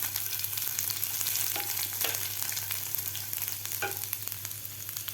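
Mustard seeds, cumin and chopped garlic fry in hot oil, giving a close, continuous sizzle with scattered pops and a few stirring scrapes, no voices over it.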